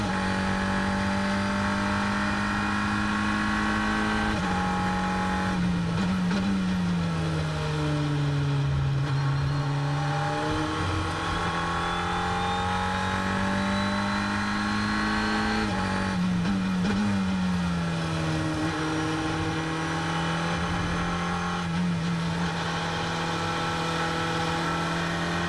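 Race cars in a GP Explorer race run at steady high revs, engines droning loudly with pitch dips and climbs through gear changes and passes, a continuous close roar with no voices.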